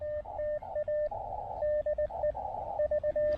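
Amateur radio receiver on a noisy band during a Parks on the Air activation in a wooded park in Québec City: a steady electronic tone keys on and off in short and long bursts over constant low hiss and static.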